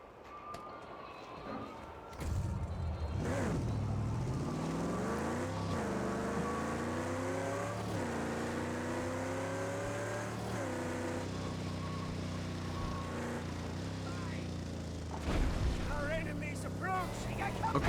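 Engine of a car in a racing video game revving and roaring as it climbs through gears, with repeated rising pitch sweeps and shifts over a steady drone, fairly quiet and continuous.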